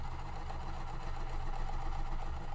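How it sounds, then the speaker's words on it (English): A sewing machine stitching two quilt pieces at once, running as a steady, fairly quiet mechanical whir with a low hum throughout. "sometimes the microphone picks up the sound of the sewing machine"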